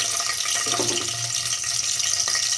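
Green chilies sizzle in about two tablespoons of hot oil in a pan, a dense, even hiss with a soft crackle, close and continuous for a few seconds with no one talking.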